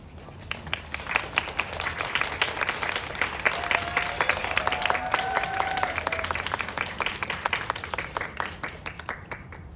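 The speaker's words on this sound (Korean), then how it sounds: "박수 부탁드립니다." An audience in a cinema hall claps as the film's director and actors walk in for a post-screening talk. The applause is continuous and rhythmic and swells in the middle, with a few faint voices beneath it.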